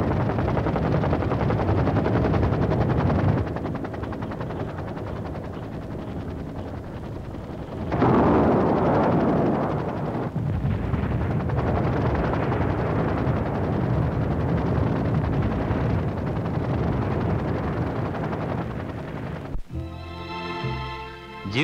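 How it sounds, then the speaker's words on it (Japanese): Live-fire exercise with tanks, self-propelled guns, anti-tank missiles and helicopters firing together, heard as a loud, continuous roar of heavy gunfire and blasts with a sudden rise in intensity midway and a brief break near the end. "戦車、自走砲、対戦車ミサイルなどの各種火砲などとヘリなどが空地一体となって地上火力戦闘を1時間半にわたり繰り広げた"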